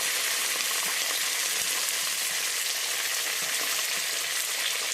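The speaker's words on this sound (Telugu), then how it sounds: "కొంచెం వేగినాక దీంట్లోనే కరివేపాకు వేసేయండి, పచ్చిమిర్చి వేసేయండి" Curry leaves and green chilies frying in hot oil with browning dried red chilies for raw mango pulihora, a loud, steady, dense sizzle with no talk, close and continuous throughout.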